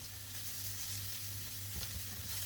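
Chopped onion sautéing in oil in a pan for ginisang ampalaya, a steady close sizzle and crackle with a faint hum underneath and no voices.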